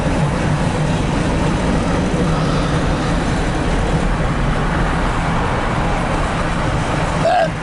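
Norfolk Southern 62V empty trash train rolling past nearby, a steady loud rumble of wagons on rails with road-traffic-like noise, continuous throughout with no break.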